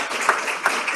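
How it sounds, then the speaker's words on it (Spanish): A seminar audience in a lecture hall breaks into applause, a short burst of many hands clapping with a couple of sharper claps standing out. "Un aplauso, por favor, si se merece."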